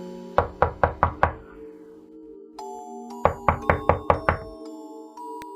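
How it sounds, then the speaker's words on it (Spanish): Knuckles rap on a door in two quick bursts of about five sharp knocks each, separated by a pause, over a faint sustained background tone. "Alguien estaba tocando a la puerta."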